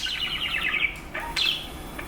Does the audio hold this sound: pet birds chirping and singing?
yes